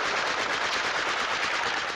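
Rapid gunfire crackles in a fast, continuous burst of shots that stays loud and dense through the whole stretch.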